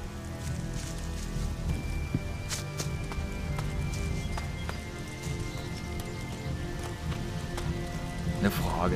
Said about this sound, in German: dass es hier permanent regnet?